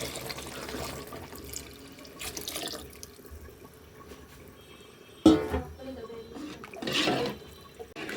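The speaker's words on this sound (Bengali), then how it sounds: "আমার কষানো হয়ে গেছে এখন আমি পানি দিয়ে দিচ্ছি" Water is poured into a pot of cooking maskalai lentils with catla fish head: a steady splashing pour, moderate and close, with a sharper clatter and a brief louder burst partway through.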